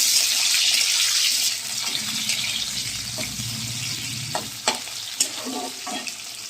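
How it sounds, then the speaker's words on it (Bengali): Loud, steady sizzling of potato and onion frying in oil, broken by several scraping knocks of a spoon stirring the pan. "পেঁয়াজটা দিয়ে দেবো, দিয়ে ভালো করে ভাজবো।"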